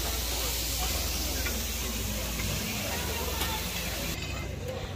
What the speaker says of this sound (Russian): И вот ее разделывают и тут же жарят.